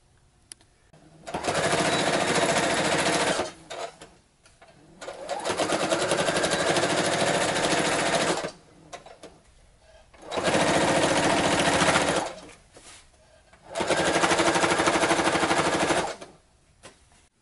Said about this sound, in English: Half inch, fold it over, stitch it.